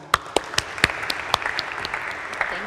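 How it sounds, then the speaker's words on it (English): An audience at a welcome event for freshers in Segovia applauds a speaker, with sharp individual claps standing out at the start and settling into a steadier patter of clapping, close and fairly loud. "Please join me with a round of applause for Ubica."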